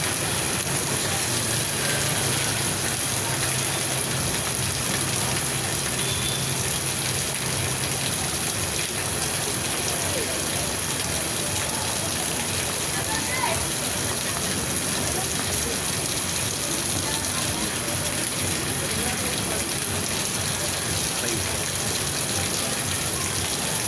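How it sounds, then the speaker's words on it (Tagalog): Heavy rain pours down steadily in a dense, hissing wash, loud and unbroken from start to finish. "Grabe ulan."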